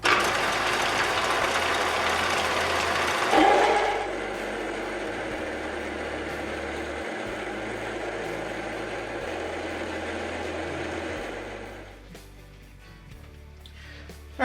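A lathe runs steadily while an old, roughly resharpened drill bit bores into the workpiece and throws small chips, giving a rough grinding hum over a pulsing low motor drone that eases off near the end.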